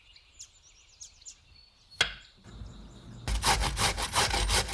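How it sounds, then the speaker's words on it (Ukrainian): Zucchini rubbed against a fine metal grater: after some faint clinks and one sharp knock, a steady series of rapid, rhythmic rasping strokes, close and fairly loud, with no talking. "Натираємо його на дрібній терці і додаємо його разом з соком до нашої суміші"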